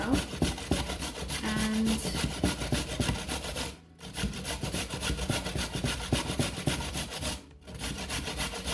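An unpeeled, scrubbed carrot is rubbed steadily against a grater into a bowl, a dense scraping rasp of rapid strokes. Two brief pauses break the grating, and a short word is spoken at the start.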